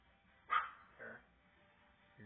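A person imitates a dog with two short barking sounds, the first louder, followed by quiet and a faint third noise at the end.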